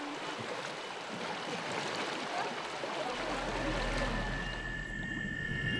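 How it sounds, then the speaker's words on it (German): Small boats glide past on a narrow jungle river in Suriname, a steady wash of water and a low motor hum under continuous broadband rustle, with a deeper engine drone rising partway through. "Beinahe lautlos ziehen Boote der Trio vorbei."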